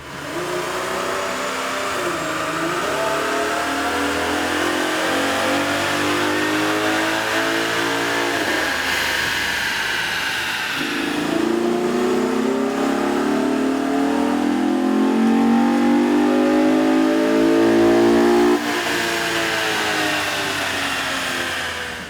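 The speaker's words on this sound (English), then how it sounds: "With the air intake installed, we ran the vehicle on the dyno to test sound comparison versus the stock intake." A Chevy Camaro 3.6L fitted with an aftermarket air intake revs on a dyno, its engine climbing in pitch, dropping briefly, then surging again through sustained loud, close revs with no talking.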